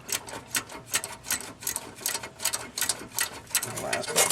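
A wrench working a stubborn exhaust header bolt on a 1996 Chevrolet Impala SS, rapid repeated ratcheting clicks in a steady rhythm, close and fairly loud.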